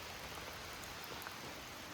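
Rain falls at an Appalachian Trail shelter: a steady, dense hiss of rain with scattered faint drips, constant and uniform, no voices.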